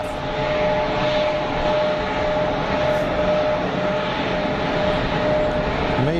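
A Pegasus airliner taxis at Geneva Airport, its engines giving a steady, continuous roar with a faint whine on top, holding at an even, fairly close level throughout with no voices.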